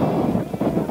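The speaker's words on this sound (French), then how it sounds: "pour l'instant le vent est fort" Strong wind at sea during a sailing race rushes and buffets the microphone, a loud continuous roar with gusty swells.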